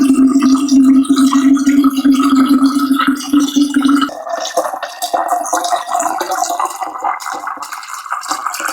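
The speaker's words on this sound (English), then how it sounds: "So I'm gonna fill up my water" Distilled water from a grocery store pours into a jug, a steady close splashing fill that shifts tone partway through as the vessel fills toward the neck.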